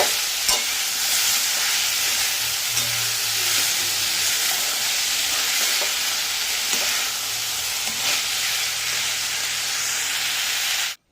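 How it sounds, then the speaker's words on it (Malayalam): Steady, fairly loud sizzle and hiss from a pan while ingredients are stirred and sautéed for a chicken curry, with faint scraping strokes scattered under the continuous frying noise. "നന്നായി ഇളക്കി വഴിക്കുക"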